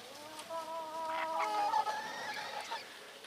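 Hens cluck and make drawn-out tonal calls close by, a short burst of a few rising and falling notes with faint background noise.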